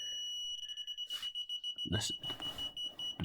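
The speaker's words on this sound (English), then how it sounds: "So at the moment we're within the half a meter range, so the beep's consistent." An Arduino-built ultrasonic parking sensor beeps in a steady, rapid series of short electronic tones at close range, loud and regular, with a person speaking briefly partway through.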